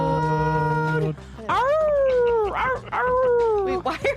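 Several voices imitate dogs with drawn-out, wavering howls and whines, rising and falling one after another, close and loud.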